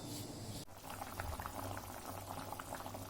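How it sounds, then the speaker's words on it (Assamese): A pot of fish curry with cauliflower and tomato boils steadily, a dense bubbling and popping heard up close and continuing without pause after a brief dip near the start. "মায়ে বনোৱা ফুলকবিৰ বিলাহী মাছৰ আঞ্জা একদম উতলি আছে"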